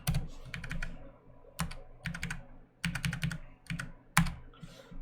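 Typing on a computer keyboard during a live computer science coding session: bursts of close, crisp key clicks in quick clusters separated by short pauses, with no voices.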